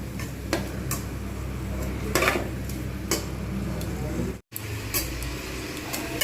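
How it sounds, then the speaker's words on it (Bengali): Mutton curry with potatoes being stirred and browned in a covered pot: a low continuous sizzle with scattered scraping and clinking of a spoon against the pot, plus a brief cut of silence midway. "আমাকে এটাকে ভালোভাবে কষতে হবে একটু ঢাকনা দিয়ে দিয়ে আমি কিন্তু এটা কষতে থাকবো"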